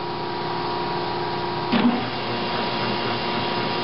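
A milling machine cuts a bevel on a steel bandsaw vise shoe, a steady mechanical whine and hum with one brief louder scrape partway through.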